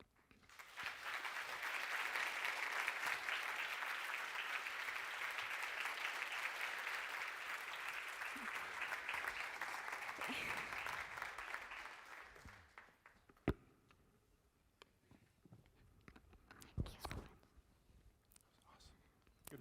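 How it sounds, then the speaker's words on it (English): An audience at a climate change talk applauds, a loud sustained wave of clapping that fades after about twelve seconds into scattered claps and quiet murmuring. "let's give another round of applause for Selena Lamb"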